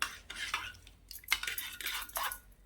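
A metal spoon stirring garden cress seeds into room-temperature milk in a bowl, bright repeated clinks and scrapes against the dish at close range.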